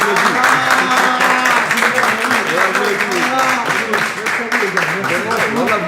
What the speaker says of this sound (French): Particulièrement, voilà, on applaudit.